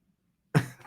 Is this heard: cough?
yes